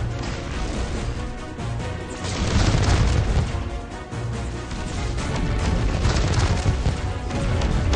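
Heavy booms and crashing explosions roll continuously in the mobile strategy game Transformers Earth Wars as a shield generator is destroyed, a dense, loud barrage of impacts with no talk.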